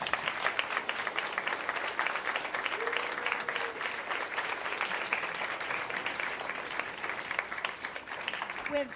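A Law Day courtroom audience breaks into sustained applause, dense steady clapping that fills the whole stretch at an even level with no pauses.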